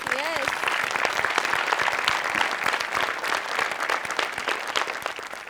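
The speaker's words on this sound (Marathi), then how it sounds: "आज आपण ज्युनियर्ससाठी एकदा टाळ्या वाजवूया." A studio audience at the Maharashtra Chi Hasya Jatra comedy show breaks into loud, steady applause. Dense clapping fills the whole stretch without letting up.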